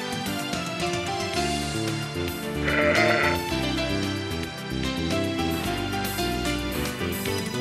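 Sheep bleat repeatedly as a sound effect, the wavering, nasal calls overlapping in a steady chorus that lasts the whole stretch, with one louder, higher cry standing out partway through.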